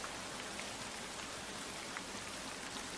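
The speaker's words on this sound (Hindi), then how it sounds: "धीरे धीरे बारिश शुरू हो गई।" Steady rain falling on surfaces, a dense even hiss with scattered drop ticks, continuous and fairly soft, with no voices.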